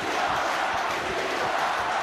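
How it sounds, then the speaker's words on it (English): Crowd at an Under-20 Six Nations rugby match between Italy and England in Treviso, a dense, continuous roar of cheering and shouting that stays loud and even throughout. "Listen to the crowd here in Treviso."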